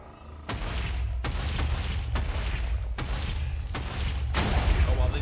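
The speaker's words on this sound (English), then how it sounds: "they just hit him with a lot of explosions there too" Explosions land on a mob in a Minecraft 1.20.1 mob battle, a series of heavy, booming blasts about once a second over a constant roaring rumble, loud and close, with faint talk underneath.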